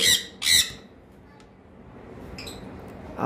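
A female pineapple conure gives two harsh, loud squawks close by, then faint chirps, then another squawk starting at the end.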